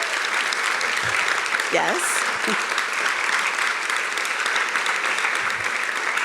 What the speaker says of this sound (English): give a rousing round of applause to Brittany, Haley, and Charity